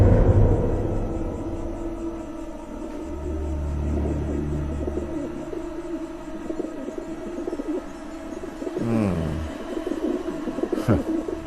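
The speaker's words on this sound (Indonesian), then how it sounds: "Kamu dengar suara burung yang ada dalam rumah ini?" Birds cooing and calling indoors in a house, soft pigeon-like coos over a low rumble, with a few sharper sweeping sounds near the end.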